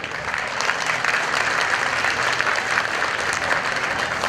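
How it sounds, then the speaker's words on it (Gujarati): A crowd at a community get-together of the Mandal Seva Foundation breaks into loud, sustained applause: dense, steady clapping that holds evenly throughout, close and full. "જોરદાર તાળીઓ વડે આપણે તેમને વિદાય આપીશું"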